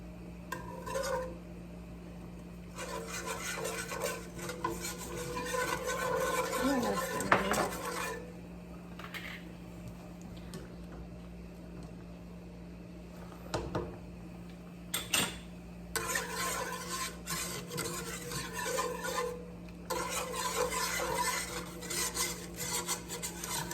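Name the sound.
scraping crispy bits off a pan with cream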